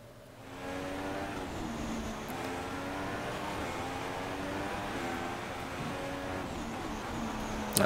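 Engine of a 2016 Formula One car in the F1 2016 racing game, a steady high-pitched whine with harmonic bands holding nearly constant as the car heads back onto the Monaco circuit, continuous and fairly loud throughout.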